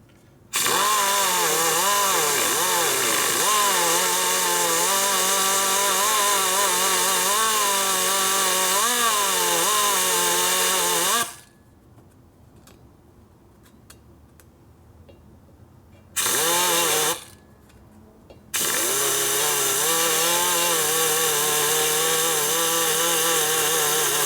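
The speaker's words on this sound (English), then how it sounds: "I moved the bit until I felt the steel pull back just a little bit, and then I started grinding." A cutter grinds the steel valve seat of a 1966-74 Harley-Davidson shovelhead cylinder head, a loud, continuous high-pitched whine that stops for several seconds, briefly resumes, pauses again, then runs on steadily.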